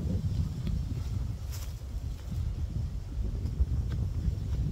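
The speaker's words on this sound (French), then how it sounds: "Alors il devrait y avoir moins de vent" Strong outdoor wind buffets the microphone with a continuous, loud, low roar and rumbling gusts, with no other sound standing out.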